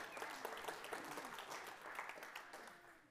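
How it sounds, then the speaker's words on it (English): Scattered, fairly quiet clapping from a church congregation after a year-end finance update, a loose patter that carries steadily throughout without building. "You're not clapping very enthusiastically"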